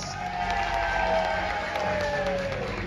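A studio audience at a game show applauds contestant Reggie after he opens a bag in a nail-in-the-bag game, a steady, dense wash of clapping that holds at full strength for the whole stretch.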